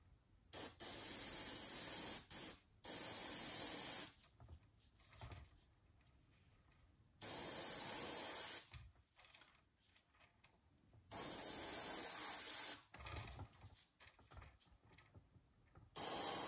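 Bursts of an airbrush-style spray gun painting crankbait fishing lures through templates, three long hissing passes of about two to three seconds each, separated by quieter handling noises and short puffs.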